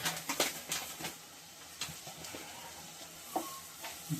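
Spoon stirring masala into a tamarind curry in a pan, with scraping clinks and a soft sizzle, faint and close, no voices.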